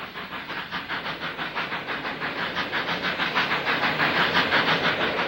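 A Canadian Class H6G 10-wheeler steam locomotive chuffs in a fast, steady rhythm as it hauls an intercity passenger train out of Toronto, with hissing and rolling wheel noise growing louder.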